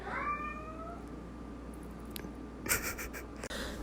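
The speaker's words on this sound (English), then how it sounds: "yes, that is our cat, whose wailing sounds like that of an 18th century Victorian ghost child" A cat lets out a long, drawn-out wailing meow, fairly close, followed by some scratching and rustling noises.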